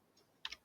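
A couple of quick keystrokes tap on a computer keyboard, faint and close, two sharp clicks in a fraction of a second against a quiet room.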